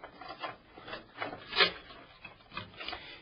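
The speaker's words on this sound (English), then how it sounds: "I'm going to feed the main connectors for the motherboard down through and plug those in first" Motherboard power supply connectors fed through a computer case: close, soft rubbing and scraping of cables against metal and plastic in irregular bursts, with one sharper scrape partway through.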